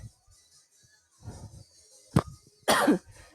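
A couple of close, sharp coughs, one short and one harsher, following quiet low murmuring.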